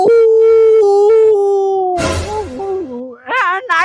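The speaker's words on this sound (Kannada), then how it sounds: "ನಾಯಿ ನಾಯಿ" A dog howling up close, one long loud sustained wail followed by a noisy burst and then shorter wavering rising howls.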